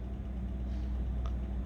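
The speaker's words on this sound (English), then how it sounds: "No, it went down to idle to maintain the idle." A car engine idling at a petrol station, a faint, steady low hum with no revving, heard alone and briefly.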